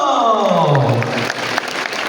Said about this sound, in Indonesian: Boleh kita berikan tepuk tangan untuk Ibu Stefani Susilo